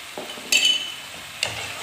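A spoon scrapes and clinks through green garlic chutney with lemon juice in a pan, two sharp metallic strokes standing out over a soft background sizzle, with no talking.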